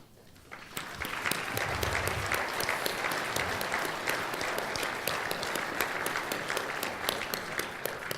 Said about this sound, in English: Let's give these board members one more round of applause, please